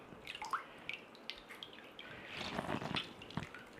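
Water dripping and splashing from a handful of squeezed blanched spinach, a series of soft irregular drips and trickles, close and fairly quiet, with a brief denser run of splashes in the middle.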